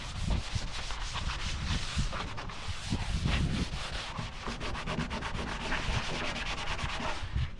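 Comet cleanser is scrubbed over the paint of an old International Harvester Scout Binder, a continuous close, loud rasping rub with fast back-and-forth strokes that quicken into a rapid, even rhythm toward the end.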